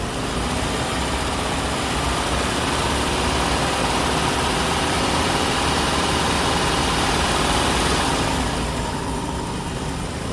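A 2005 Chrysler Town and Country engine idles steadily after a radiator replacement, a loud, continuous low rumble with broadband hiss that holds even throughout.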